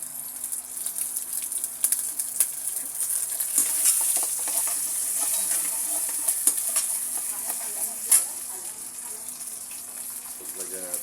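Squid fries with tomato paste in a hot pan, a close, steady sizzle with scattered crackles and brief stirring scrapes throughout, and no talking over it.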